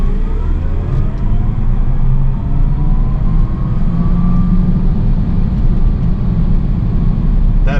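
Tesla Cybertruck accelerating hard: a steady, loud road-and-motor roar inside the cabin, with a faint rising electric whine and tire rumble, no talking.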